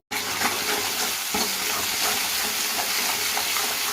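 Chilli paste for a koi fish curry fries in oil and is stirred, a dense continuous sizzle with scraping strokes of the spoon, loud and close, with no voices.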